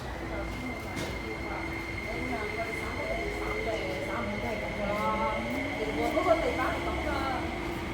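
An MTR train at Sha Tin Wai Station in Hong Kong hums steadily on the platform, its motor whine climbing in pitch as it moves, fairly close and continuous.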